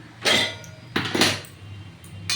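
Puffed rice pours into a hot pan already holding fried peanuts, fennel seeds and dried red chillies, giving two rustling, rattling bursts of grains striking metal up close, with a short scrape at the end.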